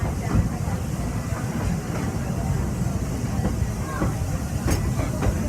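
Walt Disney World Railroad train rolling along its track, a steady broad rumble with faint rhythmic clatter and hiss throughout, loud and continuous with no clear talk.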